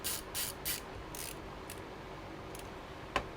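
Screws being tightened on a PC cooler block by hand, several short scraping, ratcheting bursts close up, then a sharp single click near the end, against a quiet room.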